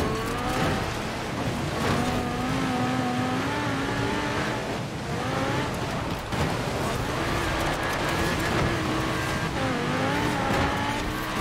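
A V10-swapped Audi RS7 rally car in Forza Horizon 4 revs loudly and continuously, its engine pitch rising and falling through gear shifts, with tire squeal and skidding.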